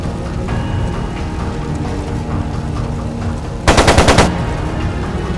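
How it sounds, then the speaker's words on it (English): Machine gun fire in Trails of Cold Steel II, one sharp rapid burst of about five shots, loud and close, cutting through a steady droning game background. "It sounded like a machine gun."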